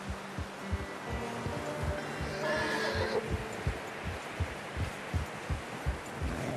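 A horse in Red Dead Redemption 2 gives a brief whinny under steady game ambience and rhythmic thumping, with the whinny rising midway through.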